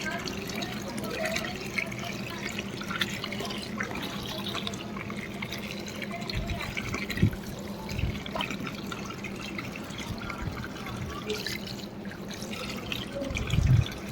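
Water pours and splashes into a basin being filled to wash a blanket, a steady running trickle with occasional louder splashes and knocks, and a voice speaks faintly at times.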